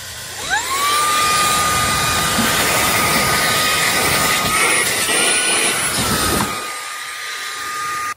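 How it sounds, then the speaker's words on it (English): A HOTO compressed air capsule blower blasts grass out, starting with a rising whine that settles into a loud, steady high-pitched rushing hiss close by, then cuts off near the end. "Get one of these air blowers in. Blow all that grass out."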